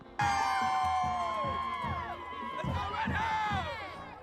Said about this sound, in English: Fans cheering from start to finish despite the cold rain.